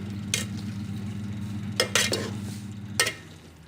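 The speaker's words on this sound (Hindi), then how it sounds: "हम इसको मिक्स करेंगे" A pot of colored mutanjan rainbow rice being mixed, with a few short scraping and clinking stirs of a utensil over a steady low hum, fairly close.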